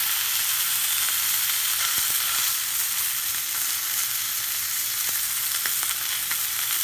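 Lurpak butter melts with oil in a pan to cook a sirloin steak, giving a loud, dense, continuous hiss and sizzle with faint scattered crackles and no voices.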